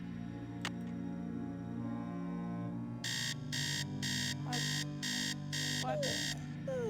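An alarm clock in the Nancy Drew game Message in a Haunted Mansion goes off as a quick run of steady beeping bursts over soft background music. The beeps are clear and moderately loud.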